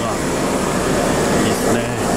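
Kintetsu train car at Furuichi station being uncoupled: a steady, loud rumbling hum of rail equipment fills the scene throughout, with a person talking faintly underneath.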